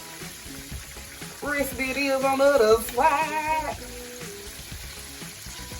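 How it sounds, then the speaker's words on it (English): Chicken sizzles in a skillet with a constant crackle, while a person talks briefly over it partway through. "I like frying my chicken in the skillet."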